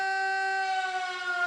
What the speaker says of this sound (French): Cette sirène que l'on entend, qui hurle, qui chante et qui claironne en ce mercredi 6 mai